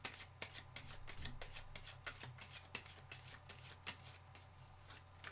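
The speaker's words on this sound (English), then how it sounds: "Sorry, I need another shuffle." A deck of tarot cards being shuffled up close, with quick repeated riffling bursts and soft slaps in an uneven rhythm, fairly faint and with no talk.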